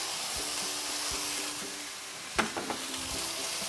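Shallots sizzle steadily in a hot pan over medium-high heat, a constant close frying hiss with a few soft clicks of stirring near the end.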